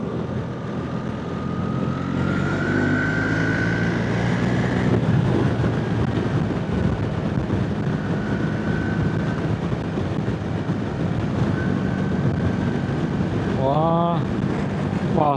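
BMW R1300GSA motorcycle with ASA automated shift system accelerating to overtake, a steady engine drone rising under heavy wind rush throughout, with a rider talking over it.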